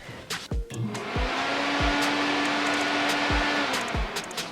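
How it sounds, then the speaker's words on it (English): A BMW E30 radiator fan, switched on through its relay, spins up and runs with a steady broadband whoosh and faint hum, close by, punctuated by several sharp low thumps from the relay being grounded. "when I ground out the fan relay, you should hear the fan turn on"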